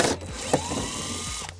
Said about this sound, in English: We're going to remove those also using an 8mm socket.